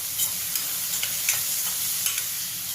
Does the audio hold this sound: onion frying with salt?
yes